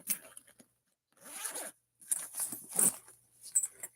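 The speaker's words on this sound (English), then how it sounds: "It does have a recessed zipper." A recessed zipper on a bag is opened with close, rasping pulls in several uneven runs, separated by brief pauses.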